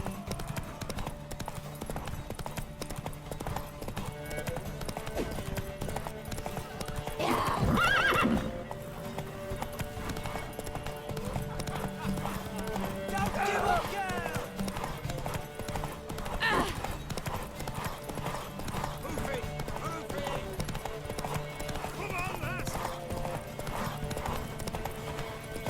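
Horse hooves clip-clop in a steady rhythm through The Witcher 3: Wild Hunt, with occasional whinnies rising over a continuous ambient game background and voices speaking in places.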